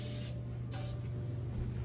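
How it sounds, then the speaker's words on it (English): Cooking grease sprayed from a can into a bread pan in a home kitchen: a close, steady aerosol hiss with a brief louder burst partway through. "Just gonna grease my pan real quick here."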